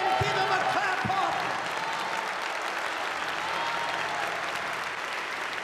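A church congregation stands and claps during a sermon. The applause is a steady, dense wash, with a few low thumps near the start, and carries on unbroken for several seconds.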